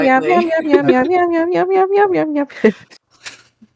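A human voice imitates a cat with a run of drawn-out, wavering meows, loud and close, ending in a short sharp sound and a brief breathy trail.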